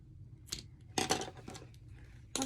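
Scissors snip crochet yarn on a small amigurumi ghost: a few short, crisp cuts with one faint snip before them and a last clip at the end, close and quiet.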